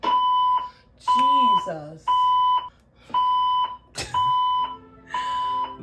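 Building alarm going off nearby in loud, evenly spaced electronic beeps, each about half a second long, while a person speaks over it between tones.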